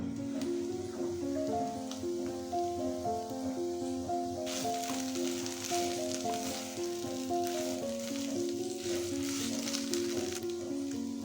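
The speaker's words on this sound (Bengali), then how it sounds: "থোরটা সেদ্ধ হওয়ার জন্য কিছুক্ষণের জন্য ঢেকে দেবো ঢাকনা তুলে কিছুক্ষণ আবার নাড়াচাড়া করে নেব" Banana stem curry cooks in a pan. Once the lid is lifted, a broad sizzling hiss with stirring swells up midway and continues under steady background music.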